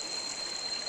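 A clear, fresh river flows steadily, giving a continuous close rushing hiss with no breaks, alongside a faint high steady tone.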